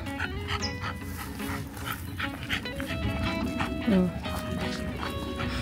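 Dogs yip and whimper amid a busy outdoor din, with people talking throughout; high whines and short barks rise now and then.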